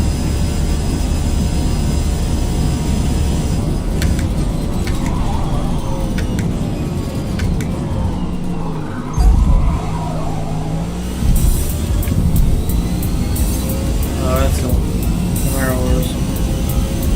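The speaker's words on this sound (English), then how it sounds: "Here comes a BMW or something." A BMW race car engine approaches in the racing game Forza Motorsport, its rising, whining tone building over the steady drone of the player's own car, with talk over the top.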